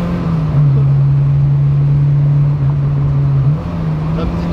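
Engine of a Peugeot 205 GTI on a mountain road, a loud, steady drone holding one pitch for several seconds before dipping and rising slightly, with voices talking over it.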